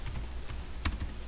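A computer keyboard clicks with a few quick, light keystrokes in an irregular burst, faint and close in a quiet room.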